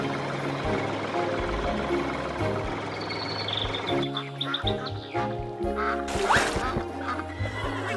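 A cartoon duck quacks in a quick run of nasal calls over busy animated farm-scene music and effects.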